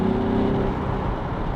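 A Nissan Z fitted with a Valvetronic Designs exhaust with four catalytic converters, valves open, gives a loud, close, aggressive droning rev that holds steady through a short burst.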